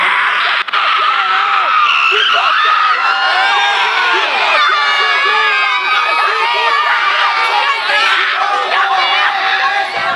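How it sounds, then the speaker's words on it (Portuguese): Supporters of a school team at an inter-class final in a school gym scream and cheer loudly, a sustained, shrill crowd roar with children's voices dominating throughout. "O grito de campeão da torcida da Pureza."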